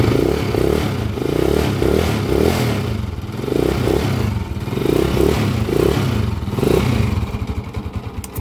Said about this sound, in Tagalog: Parinig natin yung andar sa inyo. Parinig ko sa inyo. Maingay ito eh.